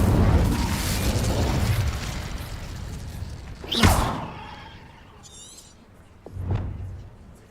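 A fire spell erupts in Hogwarts Legacy with a rushing, roaring whoosh that swells and bursts, followed by a sharp crackling flare and a second thumping blast as the flames fade, loud and close.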